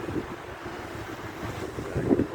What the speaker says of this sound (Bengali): এই আমার পেছনে কৃত্রিম একটা ঝর্ণা